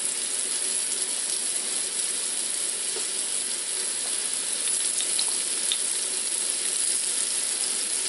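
Shrimp and cod frying in a pan for low carb tacos, a steady, loud, close sizzle that runs unbroken throughout with faint crackles and no voices.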